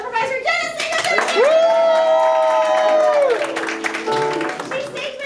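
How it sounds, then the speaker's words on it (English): An improv comedy audience claps and cheers for the show's technical improviser. A held vocal whoop rides over scattered clapping and crowd noise, close and lively. "we should throw a huge round of applause to our technical improviser, Jenna Singleton!"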